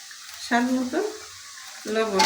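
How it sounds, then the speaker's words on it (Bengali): Spice paste with turmeric and salt frying in a pan for a vegetable khichuri, a steady soft sizzle broken by two brief tonal, voice-like hums. "আমি এখন ভালো করে মশলাটা কষাই নিব।"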